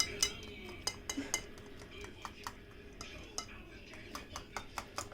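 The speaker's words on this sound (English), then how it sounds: "Mix it up real good. Thoroughly mix it." Egg, milk, salt and pepper batter for toad in the hole is stirred by hand in a bowl, a utensil clinking and scraping against the sides in an irregular rhythm, fairly close and quiet.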